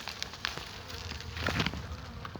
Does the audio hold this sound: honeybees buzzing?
yes